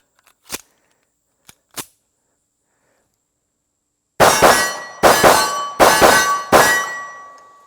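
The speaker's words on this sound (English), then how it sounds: "Let's see how the lighter, lightweight commander Ruger handles some double taps." A Ruger lightweight Commander 1911 pistol fires two double taps, four loud, sharp reports in pairs, each ringing briefly. A few faint metallic clicks of handling come before them in an otherwise silent stretch.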